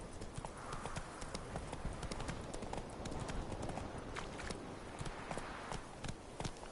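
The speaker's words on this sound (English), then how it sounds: "A lot of wild horses." Wild horses gallop in the video game The Witcher 3, a continuous dense clatter of hooves on ground with a rolling, uneven rhythm, fairly near and faint overall, backed by steady ambient noise.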